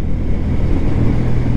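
Honda CB 125 Hornet motorcycle riding downhill, its engine a steady low rumble mixed with heavy wind buffeting on the microphone, loud and continuous with no talk.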